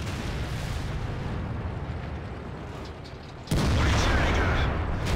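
A tank's main gun fires with a heavy booming blast in World of Tanks, from an AMX 50 120 facing a T-54, rising abruptly out of a steady rumbling engine and battle drone and staying loud to the end.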